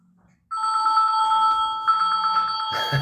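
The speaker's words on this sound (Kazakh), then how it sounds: "Ана екінші телефон дыбысын өшіре салыңыз саға." A telephone rings close by with a loud, steady electronic trill that starts abruptly and keeps going, with a brief break before the ringing resumes.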